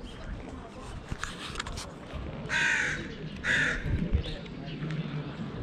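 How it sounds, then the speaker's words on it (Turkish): Crows or ravens caw twice in quick succession in the streets of Jerusalem, moderately loud over a noisy outdoor background with footsteps and distant bustle. "Kuzgunlar mı, kargalar mı?"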